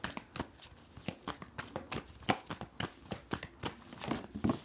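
Tarot cards being shuffled and drawn by hand during a love reading, a steady run of crisp, close riffling flicks and slaps repeating quickly with no talking.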